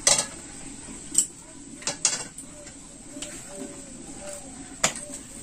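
A metal wok is set down on a stove with a few sharp clanks spread across the clip, the loudest one near the start. Low kitchen background noise runs underneath.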